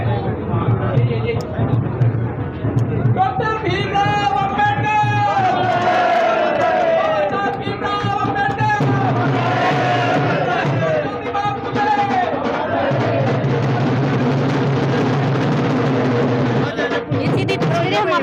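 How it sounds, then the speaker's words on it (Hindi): A large crowd gathers at the inauguration of an Ambedkar library in Hansi. Loud, close voices chant and shout together in sustained waves, with overlapping calls and babble throughout. "काफ़ी भीड़ वहाँ पर देखी जा सकती है, काफ़ी संख्या में लोग यहाँ पर मौजूद है"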